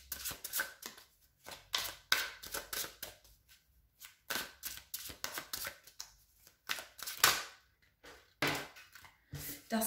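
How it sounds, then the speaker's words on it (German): Tarot cards being shuffled by hand, a series of crisp riffling bursts and soft slaps in an irregular rhythm, close and fairly quiet, with brief pauses between shuffles. "Ich mische erstmal die Karten."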